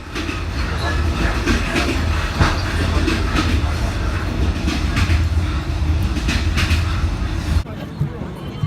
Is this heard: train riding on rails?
yes